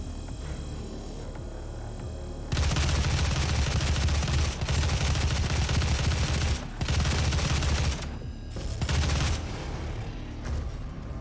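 Rapid automatic gunfire from the DOOM video game rattles in dense, loud bursts over a low rumble, broken by short pauses between volleys.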